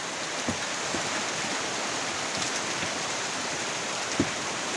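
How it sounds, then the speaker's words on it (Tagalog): Heavy rain pours down around a spot under a mango tree, a dense, steady hiss of falling water with a few louder drops and thuds, and no voices. "Malakas yung ulan."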